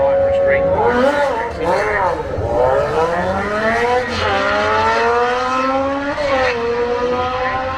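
Street bikes launch side by side off the line at a drag strip, with loud engines revving and climbing through the gears. An announcer talks over the roar throughout.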